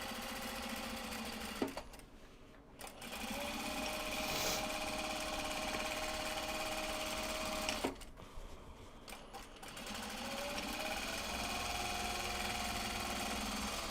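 A sewing machine runs steadily while topstitching a seam, its motor buzzing close and loud for long stretches, pausing briefly twice before starting up again.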